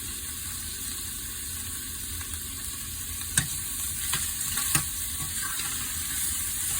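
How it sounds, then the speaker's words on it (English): Vegan, gluten-free food with seasoning salt sizzling steadily in a hot pan, a continuous frying hiss with a few soft clicks of the spoon as it is stirred, close and with no talk. "And you continue to stir"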